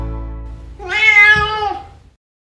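A cat gives one long, loud, drawn-out meow close by, rising and then fading away.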